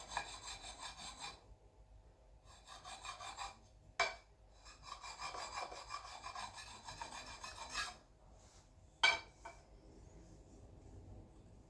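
Stone honing the edge of an axe to remove the burr, the axe on a white oak handle; repeated close rasping strokes in bursts with short pauses and a couple of sharp knocks, no talk.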